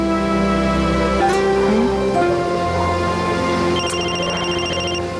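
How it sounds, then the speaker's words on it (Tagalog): A telephone rings in a home, its electronic tone repeating steadily and clearly over a busy background of music and ambient noise, with no talk. "tumutunog yung telepono"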